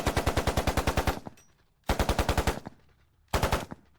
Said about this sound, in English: deafening gunfire ripped through the night, jolting the entire barracks awake